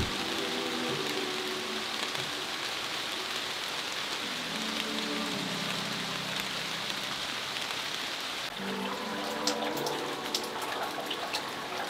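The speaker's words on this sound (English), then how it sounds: "It's about to be spring rain." Steady spring rain falls in a constant even hiss with fine drops pattering on surfaces, slightly brighter and busier with drips toward the end, with no voices.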